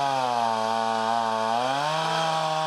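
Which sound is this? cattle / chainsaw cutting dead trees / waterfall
chainsaw cutting dead trees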